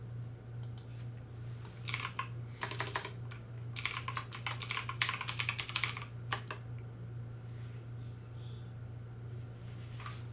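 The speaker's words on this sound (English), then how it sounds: "I'll actually type it in the chat so you can see here." Someone types on a computer keyboard in bursts of quick, close clicking keystrokes over a steady low hum, with pauses between the runs and no talking.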